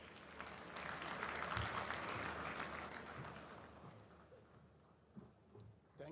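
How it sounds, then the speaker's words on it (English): Audience applause at a healthcare commissioning ceremony in Abuja, Nigeria, a broad wash of clapping that swells early and holds steady before gradually thinning out toward the end, heard at a moderate distance. "Give me a round of applause."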